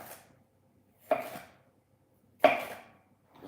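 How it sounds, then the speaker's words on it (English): A knife cuts through bell pepper for spaghetti on a board, giving a few separate crisp chops with short scraping tails, close and moderately loud with quiet gaps between. "But right now we're gonna cut up"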